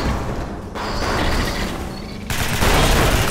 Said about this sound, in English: Quick, everybody shoot